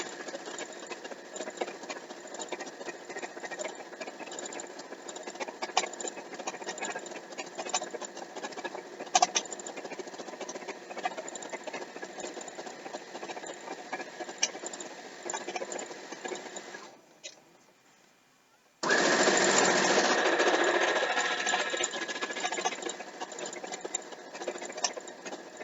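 A sewing machine runs steadily for a long stretch while stitching queen-sized quilt fabric, a close, continuous mechanical hum that pauses briefly before a louder burst resumes.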